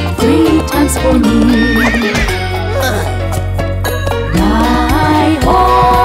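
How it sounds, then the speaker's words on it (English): A horse neighs and whinnies loudly and repeatedly over a bright children's nursery-rhyme music backing, with light clip-clop hoofbeats, no spoken voice. "Three times my horse neighs for me."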